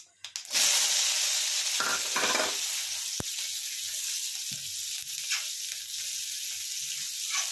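Mango pieces dropped into hot oil with panch phoron for a mango chutney burst into a loud, steady sizzle, with a few faint clinks and stirring sounds under the continuous hiss.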